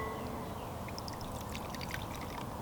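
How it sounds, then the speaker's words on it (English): Water pours into a cup of granulated sugar being mixed for bee pollen patties, a steady soft hissing trickle with faint splashy flecks, heard alone. "I'm going to go ahead and add in the full cup of sugar, but I'm only going to do about half of the water at first."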